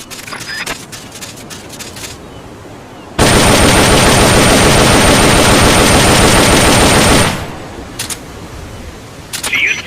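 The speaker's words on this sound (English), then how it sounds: "The M16 is a standard assault rifle, capable of rapid fire." Sustained M16 assault rifle fire in Metal Gear Solid Peace Walker, a loud unbroken burst of rapid shots that lasts about four seconds and sits between quieter game sounds.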